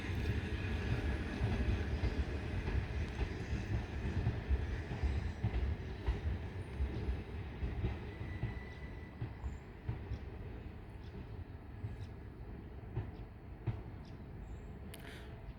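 Train 602 pulls out of Tonbridge onto the down main line on the South Eastern Main Line, a steady rumble of rolling wheels and rail noise that gradually fades, with a faint squeal near the end.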